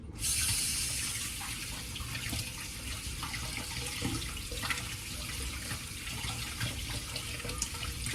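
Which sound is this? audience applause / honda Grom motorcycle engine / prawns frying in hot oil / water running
water running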